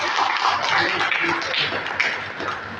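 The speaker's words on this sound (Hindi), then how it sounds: "तो एक बार फिर से मैं निवेदन करूंगा इनके ताली बजाकर स्वागत करूं" An audience at a haemophilia awareness program in Bikaner claps steadily in welcome, a continuous dense patter of many hands filling the hall, with faint voices mixed underneath.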